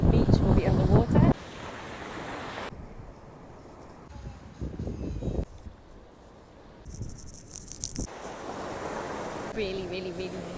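Surf rolls and hisses on a beach at a full-moon high tide, with wind gusting across the microphone, the roar shifting in level through several abrupt cuts.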